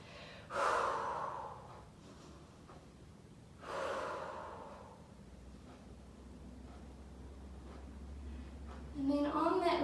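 Deep breaths during a mat pilates session, with two long, loud inhale-exhale swells, faint breathing in between and a final audible breath near the end over a low background hum.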